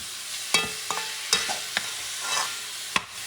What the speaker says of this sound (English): Let me add the shrimp. These are gigantic.